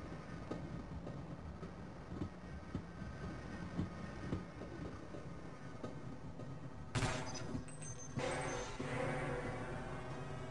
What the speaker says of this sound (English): But I'm guessing I'm supposed to take this train.